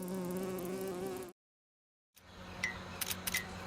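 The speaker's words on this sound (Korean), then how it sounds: "이 괴물은 말벌이에요." A giant wasp in a video game buzzes loudly and close, a steady droning hum that cuts off into silence before quieter buzzing and a few sharp clicks return.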